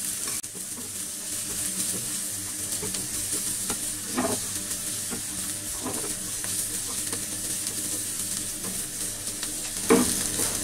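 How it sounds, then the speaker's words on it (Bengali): Chicken fried rice, Chinese street-food style, is stir-fried in a pan with salt and pepper: a continuous close sizzle with periodic spatula scrapes and tosses over roughly ten seconds. "দিয়ে এটাকে একটু মিলায় ভেজে নিই আরো আধা মিনিট"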